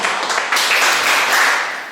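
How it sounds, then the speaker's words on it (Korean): Audience at a Korean political forum on women's work-family balance and political participation giving a short round of applause, a dense wash of clapping that rises and then fades. "다시 한번 감사의 박수를"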